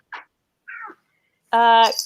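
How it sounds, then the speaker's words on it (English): A cat meows with one sharp, loud, harmonic cry near the end, after two shorter faint sounds, heard alone against silence. "just laughing because we just heard Ishi's cat"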